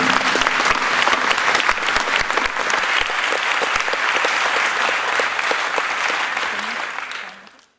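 Loud, dense applause from a large audience at the opening ceremony of an international film festival, sustained throughout and fading out at the very end.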